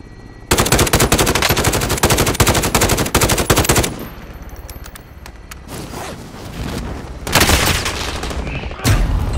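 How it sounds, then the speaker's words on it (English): Call of Duty gunfire in a Plunder match: long, loud automatic bursts rattle up close, then quieter shots and booms follow in scattered clusters, with a last sharp burst at the end. "He shot me three times, but I unloaded a whole clip in that dude and he lived."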